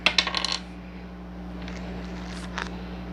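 Dice are rolled and tumble in a quick cluster of sharp rattling clicks and knocks, close and fairly loud, then settle into quiet room noise with a faint later clatter.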